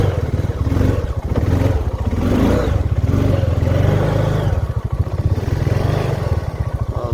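A Honda motorcycle churns through deep mud, its engine throbbing loud and close with steady pulsing revs and clattering for the whole stretch.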